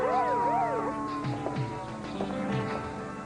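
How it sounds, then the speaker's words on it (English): An ambulance siren wails with a rapid rising-and-falling tone at the start, then fades into fainter, irregular wavering tones. "An ambulance?"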